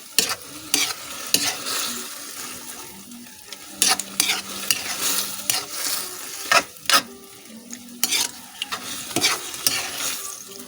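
Eggplant and egg cooking in a pan are stirred with repeated scraping, clattering spatula strokes over a light sizzle, the knocks coming in irregular bursts close by.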